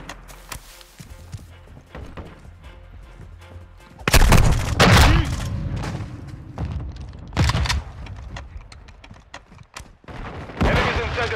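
Grenade blast and rapid gunfire in the shooter game Modern Warfare II, a hardpoint match: a loud broadband explosion bursts in near the four-second mark, followed by repeated sharp shots and impacts over background battle noise.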